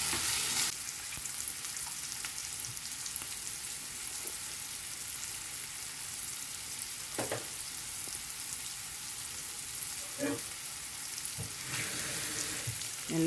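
Onions and green chillies frying in a pan for a prawn curry, a continuous close sizzle with occasional sharper pops and stirring scrapes, no voices.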